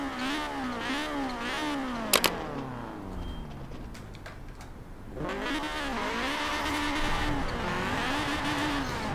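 A Honda CRX fitted with a Type R engine revs repeatedly in Forza Horizon 4, its engine note climbing and falling in steady waves, briefly dropping away before surging back loud and sustained.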